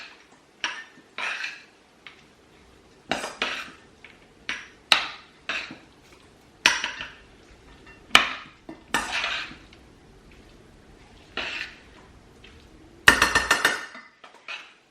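Salmon, walnut and parsley spaghetti gets stirred in a pan, with a utensil scraping and clinking against the metal in irregular bursts separated by short quiet gaps.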